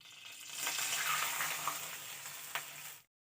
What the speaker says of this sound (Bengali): ক্ষীর বানানোর জন্য 1 চামচ মতো ঘি দিয়ে দিচ্ছি। এবার দিয়ে দিচ্ছি লিকুইড দুধ।